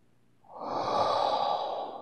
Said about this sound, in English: Start with a deep breath